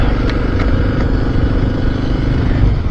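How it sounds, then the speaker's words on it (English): A Kawasaki KLX300 motorcycle engine rumbles steadily at close range, a low continuous idle with faint rhythmic clatter and no voices. "it might get a lot of engine noise"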